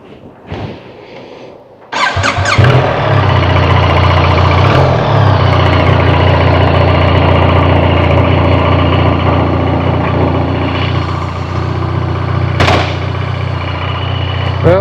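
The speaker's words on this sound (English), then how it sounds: "we're driving a BMW 1300 GSA for test drive" A BMW R1300GSA motorcycle engine idling, loud and close, with a steady low rumble that starts abruptly after a couple of seconds of quieter background noise.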